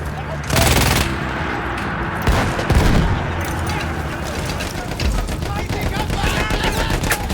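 A mounted gun firing in the Battlefield 1 video game, with loud rapid machine-gun bursts and sharp cracks coming close and repeated over continuous battle noise.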